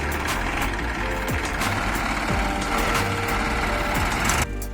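A tractor engine chugs steadily and loudly up close, working to tow another tractor with a loaded trolley out of a field, its throbbing drone unbroken throughout.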